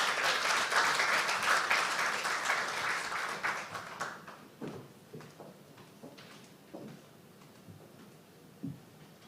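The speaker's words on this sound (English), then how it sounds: "Please give her a warm round of applause" A room at a closing ceremony of a Barbados technical conference fills with loud, dense applause for a minister, which thins after a few seconds into scattered claps and knocks before fading to near quiet.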